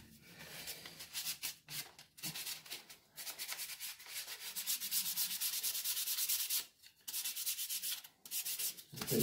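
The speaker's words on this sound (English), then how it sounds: "Get a bit of sandpaper." Sandpaper rubs against the side of a sticky key on an old upright piano in rhythmic back-and-forth strokes, close and fairly loud, with a few short pauses between passes.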